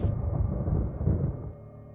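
A thunderclap rumbles during a lightning flash in the video game Resident Evil. It is a single deep rolling boom that fades out over about two seconds, fairly quiet, with no voices.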